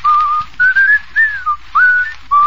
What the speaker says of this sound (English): I'm surprised he can whistle.